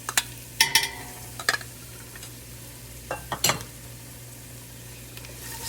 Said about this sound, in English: Stir that around so the garlic smells good.